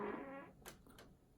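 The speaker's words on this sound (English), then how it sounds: "And I have to fart" A short, buzzy fart that starts with a low rumbling tone and breaks into two quick hissy bursts, close and fairly loud with no talk over it.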